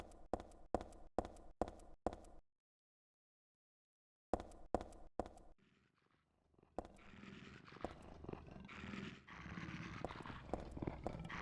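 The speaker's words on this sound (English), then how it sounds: "Okay, there's dogs down here on this side." Dogs growling and snarling in a dark horror video game, first as a run of short repeated bursts, then a pause, then a denser, louder stretch of snarls and scuffling that builds and continues to the end.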